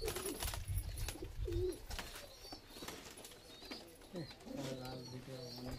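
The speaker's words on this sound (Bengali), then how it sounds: "একটা পায়রা দেখতে পাচ্ছ" Pigeons coo in a loft, with low repeated throaty calls near the start and a steadier coo toward the end, mixed with other bird sounds and faint background noise.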